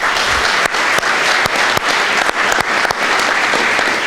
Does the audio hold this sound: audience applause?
yes